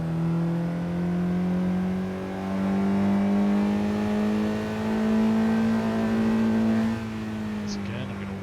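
Honda Jazz on the Monza race track, its engine holding a steady droning tone that climbs slowly in pitch under acceleration, loud and close from inside the cabin, with a brief dip around the middle.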